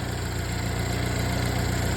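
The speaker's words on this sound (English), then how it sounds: "I can hear what sounds like the timing chain rattling around" A 2015 GMC Terrain with a 2.4 EcoTec engine and a timing chain fault idles steadily up close, a continuous low mechanical drone with a faint rattling texture running through it.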